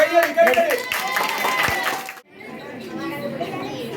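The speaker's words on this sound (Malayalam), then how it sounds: "കയ്യടി" A group of children at a summer science festival clap together in a short burst of applause mixed with lively chatter, then the room quiets to murmuring voices.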